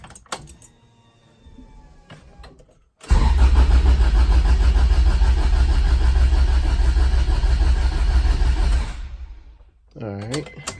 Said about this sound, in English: So let's crank it over.